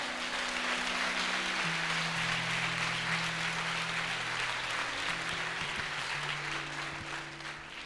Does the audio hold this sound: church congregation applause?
yes